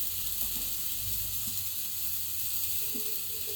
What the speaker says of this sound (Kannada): ಸ್ವಲ್ಪ ಮೀಡಿಯಮಲ್ಲಿ ಇಟ್ಬಿಟ್ಟು ನಾವು ಫ್ರೈ ಮಾಡ್ಕೊಳ್ಬೇಕು, ಇಲ್ಲಾಂದರೆ ಸುಟ್ಟೋಗುತ್ತೆ ಒಂದೇ ಕಡೆ ಬದನೆಕಾಯಿ.